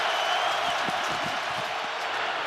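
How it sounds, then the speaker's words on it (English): Packed NFL stadium crowd at a Chiefs at Ravens Sunday night game, a steady loud roaring din on third down with a faint bit of talk underneath. "Crowd already full din."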